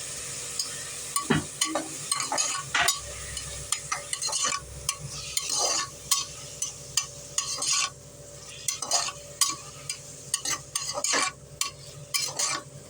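Tomatoes and garlic sauté in a pan for bitter gourd kootu, with a soft sizzle under repeated sharp scraping spatula strokes, some in quick bursts, close and clear without speech.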